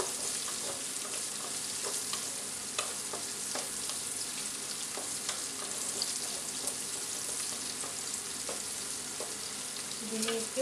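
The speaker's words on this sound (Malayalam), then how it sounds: "നന്നായി വഴറ്റാം" Mussel pickle ingredients sauté in a pan with a steady, close sizzle and frying hiss, broken by the soft scrape of stirring, continuous and alone with no voices.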